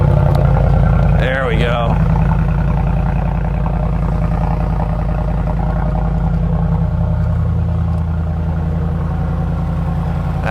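A Mercedes Brabus G700 Widebody G-wagon engine fires up and settles into a deep, loud, steady idle, with a brief voice over the start.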